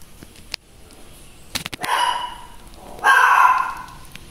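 A dog barks in a home where it is being fed rice, with two loud, close bursts of barking separated by a short pause over quiet room noise.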